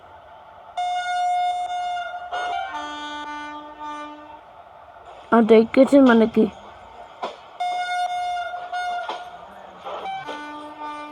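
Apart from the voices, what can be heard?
WAG4 locomotive train in Indian railway simulator video game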